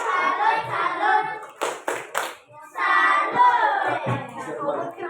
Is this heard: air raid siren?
no